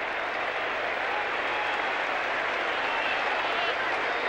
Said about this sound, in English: clapping is for O'Dwyer coming off the ground, and Williams back onto the ground for Melbo